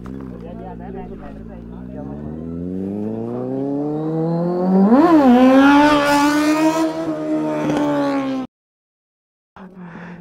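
A Kawasaki Z800 or KTM Duke 390 superbike revving hard in first gear, a loud, close engine whine that climbs steadily in pitch, peaks in a surge, then cuts off abruptly before resuming faintly.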